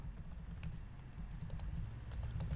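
Fast, steady keystrokes on a computer keyboard while entering test code, close and continuous with no one speaking.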